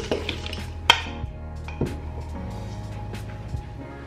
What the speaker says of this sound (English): So you just mix that in together really good.